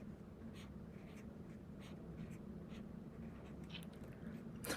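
A pen writing the word apple on lined paper, giving faint scratchy strokes in short bursts over a steady low background hum, quiet and close.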